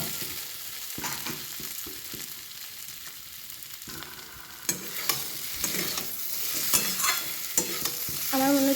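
Potatoes for alur dom are stirred and fried with spices in a pan, with soft sizzling and a run of scraping, clattering spoon strokes that grow louder and sharper in the second half.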